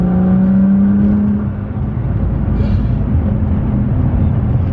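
Nissan GT-R car accelerating, a loud, steady low engine roar with a rising tonal whine early on, sustained and close throughout.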